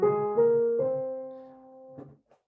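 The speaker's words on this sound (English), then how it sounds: "And tones sound like this." Melodic instrument notes stepping a whole tone apart, sounded one after another: three sustained pitches in quick succession, then a softer fourth note after a pause, clear and close with no talking.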